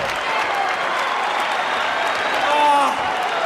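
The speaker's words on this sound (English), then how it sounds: "I want everybody to applaud Chael." Arena crowd at an MMA fight event applauding, a dense steady wash of clapping and crowd noise with voices mixed in, swelling briefly louder near the end.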